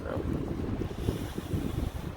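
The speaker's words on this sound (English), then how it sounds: "So I apologize for the wind if it's still windy" Wind buffeting a microphone at a trail campsite, a loud, gusty low rumble with rough fluttering that continues throughout the short stretch.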